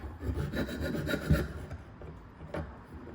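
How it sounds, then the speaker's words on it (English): A jeweler's saw cuts sheet metal, rasping back and forth in quick, steady strokes, close and fairly quiet, with a brief pause near the end. "the way that we maneuver around that is by sawing in place while turning the metal"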